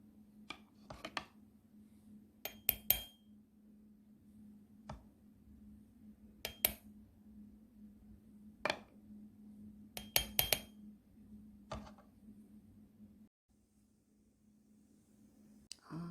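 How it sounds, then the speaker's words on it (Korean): Aloe gel scooped into a dish at a home kitchen table, with sparse, sharp clinks of cutlery against glass, single and double taps separated by quiet pauses over a faint steady hum. "알로에를 덜어보겠습니다"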